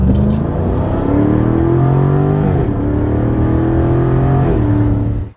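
A Jaguar F-Type R 75 with its 5.0-litre V8 accelerating hard, a loud close engine roar whose pitch climbs steadily, dips briefly at a gear change, then climbs again before cutting off abruptly.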